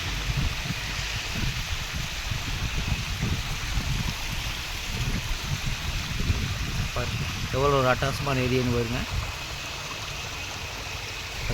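A steady rush of water flowing over rocks at a waterfall on the road to Kumily fills the scene, with a person speaking briefly over the continuous babbling flow.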